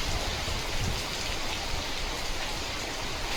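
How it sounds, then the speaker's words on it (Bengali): Steady heavy rain pours down in a dense, even hiss throughout, with no voices heard. "সিরিয়াসলি বৃষ্টিটা বেশ অনেকক্ষণ ধরে হচ্ছে"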